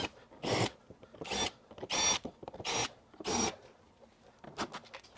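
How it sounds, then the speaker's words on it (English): Five short, evenly spaced bursts of a power drill with a 1/4-inch bit spinning up and biting into material to mark holes, each under a second, followed by fainter rustling handling noises. "I'm going to go ahead and mark all my holes with this 1/4-inch drill bit."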